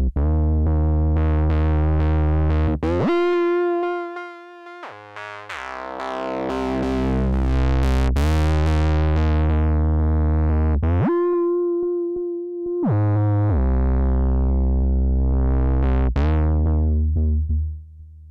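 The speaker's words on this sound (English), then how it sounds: "I'm personally a big fan of germanium distortions, especially on monophonic patches like this." Arturia MiniFreak synthesizer playing a monophonic patch through a germanium distortion effect: a loud, gritty, buzzing lead line of sustained notes with sliding pitch, alone with no talk.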